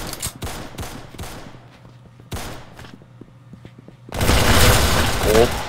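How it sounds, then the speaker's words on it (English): Pistol fire in the Roblox game Arsenal: several sharp shot bursts early on, then a loud, dense spray of rapid shots in the final seconds. "Okay, pistol. Oh my god, this thing sprays."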